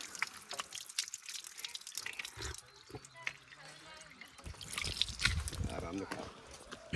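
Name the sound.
natural spring water trickling out of the ground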